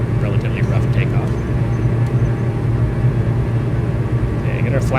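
A Diamond DA62 twin-engine plane climbing after takeoff in Microsoft Flight Simulator, its engines giving a loud, steady low drone that runs throughout while a voice talks briefly over it.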